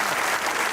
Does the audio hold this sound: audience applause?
yes